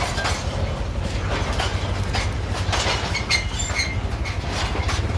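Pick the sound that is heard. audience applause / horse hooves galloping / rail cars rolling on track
rail cars rolling on track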